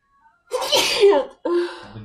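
A woman sneezes twice in quick succession, the first a loud, drawn-out burst and the second shorter, both close and clear with nothing else underneath.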